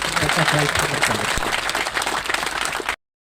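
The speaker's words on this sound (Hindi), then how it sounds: "इसलिए मैं चाहूंगा कि इनके लिए जोरदार तालियों से पूरा" Loud, dense audience applause fills a mine safety week event hall, steady clapping from many hands that cuts off abruptly near the end.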